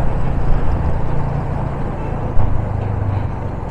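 Heavy road traffic on a hot afternoon outside Pune, India: a steady, dense rumble of cars, trucks and buses close by, with a brief louder knock near the end and no voices.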